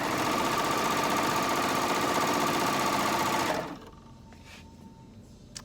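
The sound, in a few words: serger sewing machine stitching a picnic quilt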